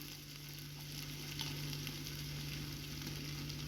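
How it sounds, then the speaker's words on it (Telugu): Masala for biryani frying in a pan, a soft, even sizzle with light crackles and faint stirring scrapes, close but quiet over a low steady hum, no talking. "కొద్దిగా పచ్చివాసన పోయేలాగా ఫ్రై చేసుకుందాము"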